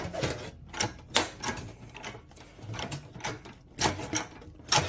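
A sheet metal brake bends metal flat in a quiet workshop, with irregular mechanical clanks and clicks in short bursts separated by brief pauses.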